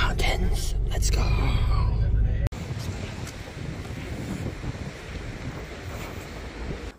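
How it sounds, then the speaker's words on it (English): A river runs through Takayama in the Japanese Alps, heard as a broad, steady rushing flow mixed with gusty wind buffeting the microphone, louder at first and then settling into a constant wash. "Whoa, this river is so amazing"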